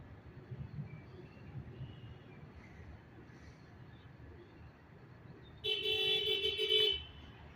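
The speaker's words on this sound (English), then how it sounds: "First time I've ever heard someone hit their horn at the train" A car horn honks at a CSX freight train stopped on a crossing, one sustained blast of just over a second rising suddenly out of a quiet, low rumbling background, fairly close and loud.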